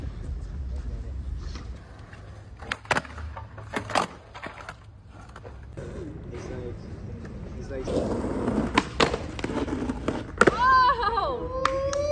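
Skateboard wheels rolling on flat ground during a warm-up session in Los Angeles, with a steady rumble, scattered sharp clacks and pops, and a louder stretch of rolling near the end, heard close.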